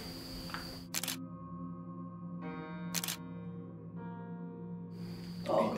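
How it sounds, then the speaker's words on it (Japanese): Camera shutter clicks twice during a photo by a tunnel, sharp close snaps about two seconds apart over a steady tonal hum. "一枚写真撮りますか、この辺で。"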